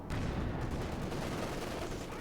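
Rapid machine gun fire from the video game Company of Heroes 2 rattles in a dense, continuous burst, fairly quiet and steady for a couple of seconds.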